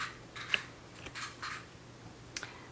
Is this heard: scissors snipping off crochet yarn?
yes